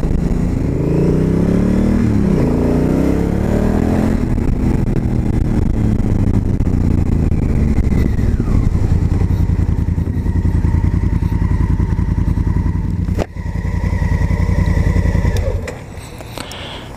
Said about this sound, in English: First ride on the Africa Twin Adventure Sports model.